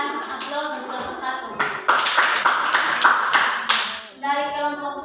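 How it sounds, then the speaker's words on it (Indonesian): Students in a classroom applaud a presenting group, with a burst of many hands clapping that swells and then fades, and children's voices talking before and after it. "Berikan aplaus untuk kelompok"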